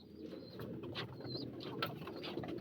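Soft, low cooing of pigeons close by, with a few faint chirps higher up over a steady murmur.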